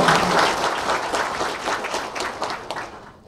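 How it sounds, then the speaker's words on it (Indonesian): A crowd at a political party event for a gubernatorial candidate pairing gives sustained applause, loud at first and gradually thinning and fading toward the end. "Kita berikan tepuk tangan dulu dong."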